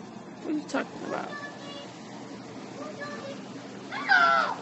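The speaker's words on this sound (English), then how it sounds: "That's a cat." A cat meows outdoors in a residential neighbourhood, a few short mews scattered over low background rumble, with a louder, clearer meow near the end; voices talk faintly in the background.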